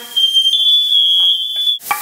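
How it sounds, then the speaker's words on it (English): A household smoke alarm sounds in a kitchen where shrimp are frying, giving one loud, sustained high-pitched electronic tone that cuts off abruptly, followed by a brief clatter. "Alarm!"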